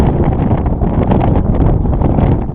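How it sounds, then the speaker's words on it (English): Strong wind gusts buffet a sailboat on a lake, a loud continuous roar of wind noise across the microphone that never lets up. "the winds are definitely picking up"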